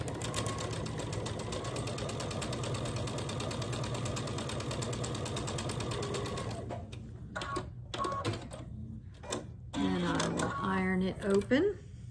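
A sewing machine runs steadily for about six seconds, stitching quilt pieces with a fast even whir close by, then stops, leaving soft handling noises and a short burst of talk near the end.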